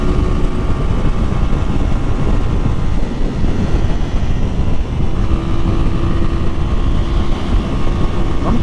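A 2008 Honda Fan 125 motorcycle engine drones steadily while riding at speed, with a continuous low rumble and wind roar throughout and a slight change in pitch partway through.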